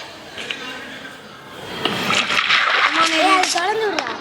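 Water splashes and pours steadily in a Minecraft world, a continuous rushing sound while someone talks over it.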